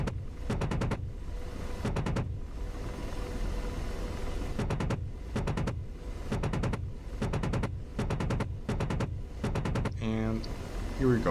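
AH-64D Apache helicopter cannon firing in the DCS World flight simulator: several short rapid bursts of gunfire spaced through the clip over a constant rotor and engine drone.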